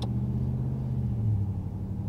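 Low, steady exhaust drone of a 2022 RAM 1500 with a Karnage muffler, heard from inside the cab while driving, quiet and even with no voices.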